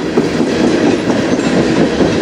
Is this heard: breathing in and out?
no